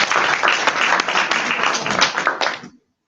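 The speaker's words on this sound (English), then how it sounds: "can we have a round of applause for these awesome speakers?" An audience at a technical communication conference panel gives the speakers a brisk round of applause. The clapping is loud and steady for under three seconds, then stops abruptly into silence.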